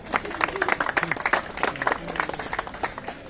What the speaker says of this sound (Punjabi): ਤਾੜੀਆਂ ਦਾ ਮਾਰ ਲਓ ਆਪਾਂ ਜਿੱਤੇ ਆ